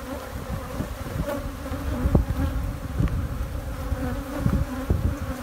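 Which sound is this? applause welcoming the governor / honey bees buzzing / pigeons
honey bees buzzing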